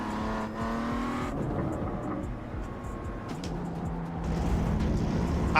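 A race car engine in the iRacing sim racing game revs and climbs through the gears, a loud continuous whine rising and falling with shifts, briefly joined by tire noise.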